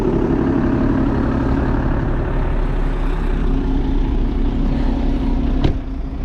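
A BMW 525 M Sport idles close by with a steady, low, even engine rumble and a brief sharp click near the end.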